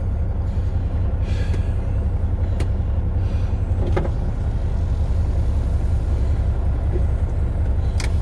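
A truck pulling away after unhooking a trailer: a loud, steady low engine rumble that fills the whole stretch, with a few brief hisses and clicks over it.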